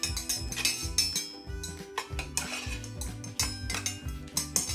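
Toy pots, pans and spatulas clatter and clink together during pretend cooking, producing repeated close metallic knocks and scrapes in an uneven rhythm, with no talking.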